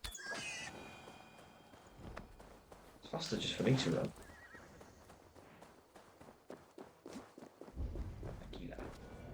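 A horse in Assassin's Creed Valhalla neighs and whinnies, with hoof clip-clops and footsteps nearby, while someone talks over the game sounds.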